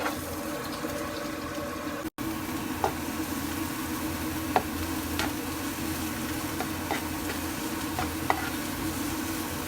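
Onion frying in cooking oil for chicken shawarma, a moderate steady sizzle with occasional spoon scrapes and taps against the pan, close by with no talking.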